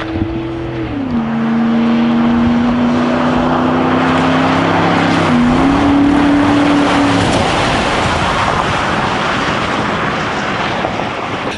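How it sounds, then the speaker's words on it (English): Ford F-150 pickup driven flat out around the banked oval of the abandoned Texas World Speedway, its engine droning loudly with a steady then rising pitch as it passes, road and wind noise filling the rest, no talking. "He's going full out NASCAR in his F-150."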